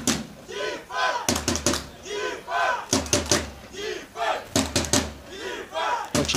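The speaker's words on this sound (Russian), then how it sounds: "Очень ярко поддерживает свою команду болельщиков спартанцев" Spartans supporters chant and cheer loudly at an American football match in Moscow against the Gryphons, rhythmic crowd shouts rising and falling alongside sharp drum-like thumps and claps.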